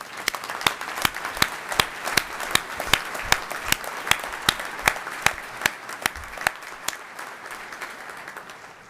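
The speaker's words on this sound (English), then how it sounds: "Please join me in a warm round of applause." Applause from a graduation ceremony audience, steady sustained clapping from a large crowd with sharp individual claps standing out close by, continuing evenly for several seconds.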